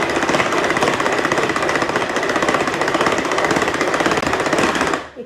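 Electric mixer on low speed beats egg whites for tiramisu in a bowl, a dense continuous buzzing rattle held steady and close for several seconds before stopping abruptly.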